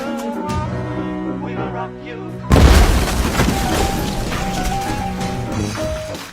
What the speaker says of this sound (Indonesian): Suara ledakan